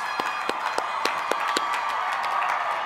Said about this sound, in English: Audience, if you've not already started, please do applause for these graduates